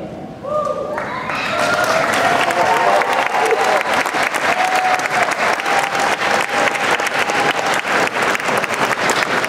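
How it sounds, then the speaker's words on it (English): Graduates at a Class of 2017 high school graduation ceremony at St. John's University applaud their parents. A brief voice at the start gives way to loud, sustained clapping from a large crowd in a big hall. "I would like for you to give your parents a round of applause"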